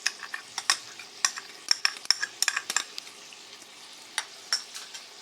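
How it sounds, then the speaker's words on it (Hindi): Chicken soup base being stir-fried in a pan with garlic and ginger paste, a spoon scraping and clinking against the pan in quick irregular strokes over a soft sizzle, close up with no talking. "हम इसको अच्छे से लहसुन अदरक के साथ भूनेंगे"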